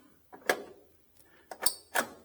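The door lock on a 1966 Chevrolet Impala SS is worked, producing a few sharp metallic clicks and clunks, close and distinct, separated by short pauses.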